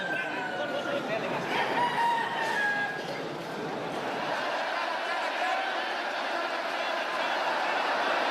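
Roosters crow over a noisy crowd at a Balinese cockfight, several long rising calls overlapping in the first seconds, then a steady dense murmur of people with fainter crowing further off.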